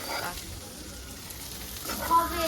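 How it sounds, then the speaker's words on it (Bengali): Poppy seed and mustard paste spices fry in a pan with a soft, low hiss close by, fairly quiet throughout. "তো মশলাগুলো হয়ে গেছে ভাজা"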